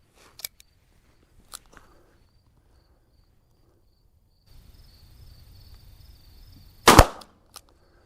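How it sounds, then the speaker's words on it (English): Two faint single shots from a Smith & Wesson K22 Masterpiece five-screw revolver firing Aguila pistol match ammunition at about 20 yards, then a hiss of handling noise and one loud, sharp crack with a short tail. "We're going to shoot a group now at the bottom left target."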